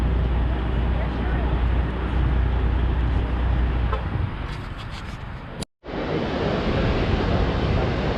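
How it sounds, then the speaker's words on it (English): Loud, steady broadband rush of a waterfall pouring into the St. Lawrence, continuous throughout with heavy wind buffeting, briefly cutting out near the end before resuming. "So we've arrived at the waterfall."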